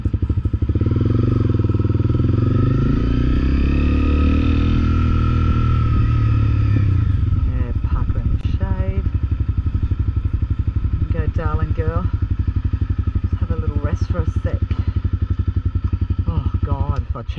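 A small motorbike engine runs steadily through the whole stretch on an Australian outback adventure ride in the Northern Territory, loud and close with a droning hum, while people talk over it in the second half.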